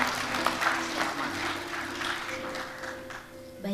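Congregation clapping at a church wedding blessing, a soft continuous patter of many hands held at moderate distance, with faint organ-like tones sustained underneath.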